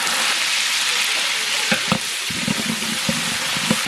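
Curry leaves crackle and sizzle in hot oil with tamarind, a steady loud frying hiss broken by sharp pops and the clack of a spoon stirring through the second half; no voices.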